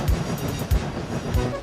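A steam engine pulls a goods train quickly out of a railway yard in an animated children's railway story, with three deep rhythmic low chuffs and a steady rumble underneath.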